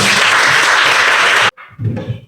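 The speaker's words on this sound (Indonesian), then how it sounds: "Mari kita tepuk tangan." A class applauding together, a loud dense burst of clapping that cuts off abruptly, followed by a short stretch of quieter sound.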